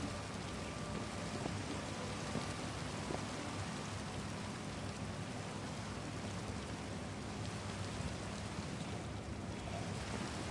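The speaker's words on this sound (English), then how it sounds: "And it's fucking raining too" Steady rainfall in the game Minecraft, a dense continuous hiss of drops on surfaces running evenly throughout with no speech over it.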